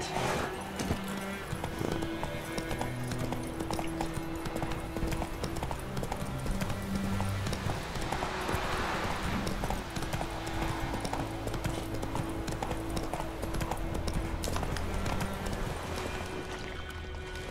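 Horse hooves clip-clop in a steady, continuous trotting rhythm in the video game The Witcher 3, with a faint game background ambience and occasional soft rustling.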